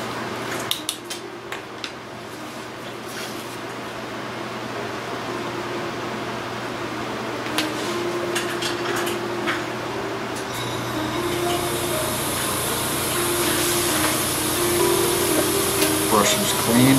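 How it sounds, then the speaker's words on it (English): An air compressor for airbrush painting a model runs with a steady mechanical hum, a few clinks near the start, and a hissing rush of air that builds toward the end. "I'm going to get the compressor going and we'll get painting."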